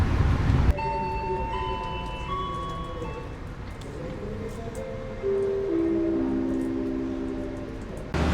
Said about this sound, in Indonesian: kereta api Senja Utama Solo telah tiba di stasiun Cirebon